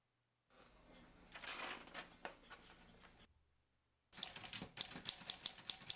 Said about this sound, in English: Oh, typewriter. That's so easy.